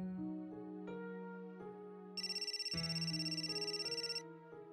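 A telephone ringtone sounds in a Marathi TV drama scene: a pulsing, high electronic trill runs for about two seconds over a soft melodic music bed, with no talking.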